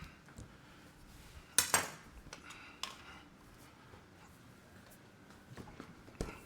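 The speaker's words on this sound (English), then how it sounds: "I'll get out a knife and a cutting board." A knife and cutting board are taken out in a home kitchen while cooking turkey and dumplings, with sharp metallic clinks and a wooden clatter, then scattered quieter knocks.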